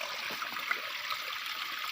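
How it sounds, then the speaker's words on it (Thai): Water flows at the base of a waterfall in a mountain ravine, a continuous bright rushing hiss, moderately loud and steady throughout the short span, with no talk. "มี ฐานน้ำตกไหลอยู่"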